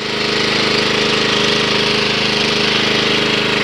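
A pressure washer set up to clean beneath the deck of a Wright 36i stander lawn mower runs with a loud, steady, unbroken engine drone close by, with no talking.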